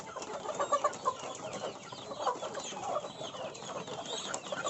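Chickens cluck and murmur together at feeding time in a farm coop, a busy overlapping chorus of short clucks and chatter, fairly close and steady throughout.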